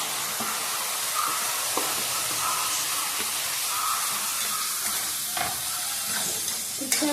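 Tomatoes tipped into hot oil sizzle steadily in a home kitchen, a dense continuous frying hiss with occasional stirring clinks and scrapes, close and without speech.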